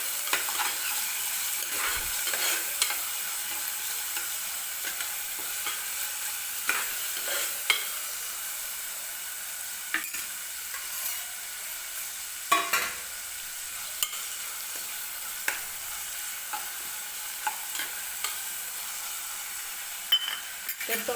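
Finely chopped tomato frying in oil in a pan for a potato curry, a soft steady sizzle broken by repeated scraping stirs and light utensil clinks, with no speech.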